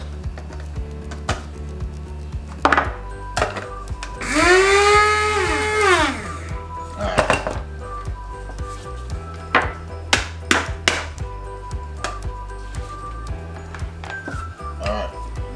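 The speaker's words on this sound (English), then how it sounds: "since I don't have no fresh thyme and basil, I'm going to use my grinder and grind this up." Dried thyme and basil are ground in a small electric grinder that whirs for about two seconds, its pitch rising and then falling. Kitchen knocks and clicks come before and after the burst.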